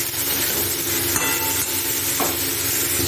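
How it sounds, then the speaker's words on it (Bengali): Spices with turmeric stir-fried in a pan for a phulkopi omelette curry, a steady close sizzle with scraping spatula strokes and a couple of sharper knocks, no talking. "তারপর কিছুক্ষণ সময় ধরে একটু নাড়াচাড়া করে ভেজে নেব।"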